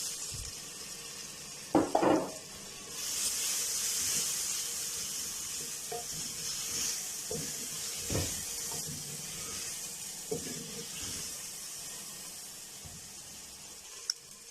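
Two tomatoes fry in a pan for a dhaba-style chana dal, a continuous hiss and sizzle with occasional clinks and scrapes of stirring, close and steady.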